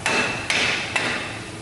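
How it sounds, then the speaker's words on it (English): Three crisp hammer strikes on a rear axle seal, evenly spaced about half a second apart, each leaving a brief high ring; nearby, no voices. "And then whack it with a hammer."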